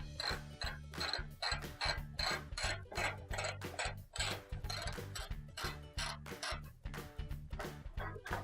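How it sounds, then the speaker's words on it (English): A ratchet fitted with a 1/4-inch socket removes the screws of a Frigidaire range's front cover, giving steady, close rasping bursts in a quick repeating rhythm that run without pause through the clip. "So I'm going to take a ratchet with a 1/4-inch socket on it."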